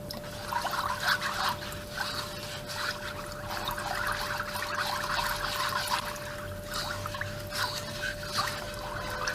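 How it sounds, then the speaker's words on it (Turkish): Water pours and trickles steadily from a container into a pot while tarhana is prepared, a continuous splashing stream close by with no speech. "Bir litre suyum vardı. Biraz daha boşaltıyorum. Hatta hepsini boşaltıyorum."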